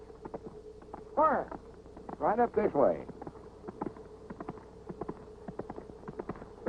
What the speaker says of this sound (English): that's the biggest horse I ever seen in my life.